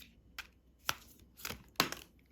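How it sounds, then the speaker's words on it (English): A tarot deck being shuffled by hand, a few short crisp riffling bursts spaced irregularly, close and quiet with no talking. "I'm now going to shuffle the cards"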